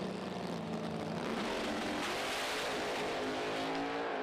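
A Pro Stock drag racing car makes a pass at the PDRA East Coast Nationals, its engine a sustained, loud tonal roar with some rising pitch across the run and no voices over it.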